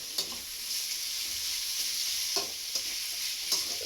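Okra and onions fry in a pan for sambar, a steady bright sizzle running throughout, broken by several sharp scraping stirs of a spatula against the pan.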